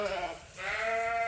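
Sheep bleating loudly and close, two long wavering calls in a row with a brief dip between them, in a confinement setting with well-cared-for breeding stock.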